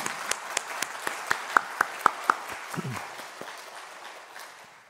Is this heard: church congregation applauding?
yes